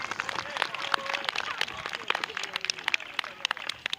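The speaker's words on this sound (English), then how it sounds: "Give him a round of applause." At a Roman-themed riding display, spectators clap for a horseman who has knocked down two targets. The applause is scattered and moderately distant, and it plays beneath continuing commentary and crowd noise.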